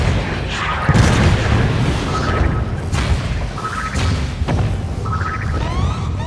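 Bomb explosions in the video game Spore arrive as several heavy booms and thuds, spaced roughly a second apart over constant game sound, each followed by a bright chiming effect.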